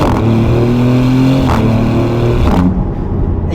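A Maserati GranTurismo Trofeo engine revs hard through paddle-shift gear changes, a loud, close, rising harmonic roar broken by two quick shift blips before it drops off at the end, with no talk.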